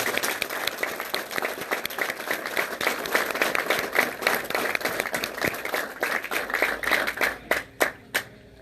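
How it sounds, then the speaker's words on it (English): Sustained applause from an audience at an army training graduation ceremony, dense clapping that carries on evenly, then thins out into a few last separate claps. "please join me in giving our awardees a round of applause."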